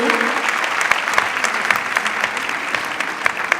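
An audience at a CGECI Academy event in Côte d'Ivoire applauds the Minister of Industry and Mines, dense steady clapping from a sizable crowd lasting the whole stretch, fairly close and even in loudness.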